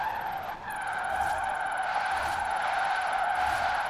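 Tires squeal steadily as a VW ID.R electric race car drifts sideways in Forza Horizon 4. The screech holds a sustained, wavering pitch for several seconds over a faint, smooth electric whine, with no voices.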